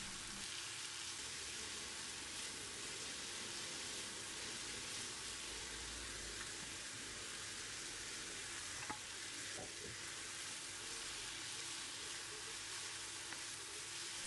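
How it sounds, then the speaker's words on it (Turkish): Onions and leeks sauté in a pan over high heat, giving a steady, even sizzle and frying hiss that runs throughout with faint stirring clicks. No one speaks. "Yüksek ateşte soğanları soteledikten sonra hemen pırasalarını ilave ediyorum."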